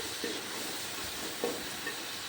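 Chopped onion fries in hot oil in a pan while being stirred for a Bengali fish-oil chorchori, giving a steady close sizzle with soft scrapes of the spoon and no talk.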